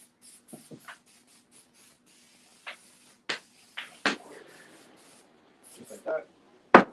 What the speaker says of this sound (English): Now we'll spray out a little bit on the outside here.